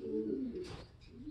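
A racing pigeon coos in a short, low, throaty burst at close range, followed by a brief rustle and faint background noise.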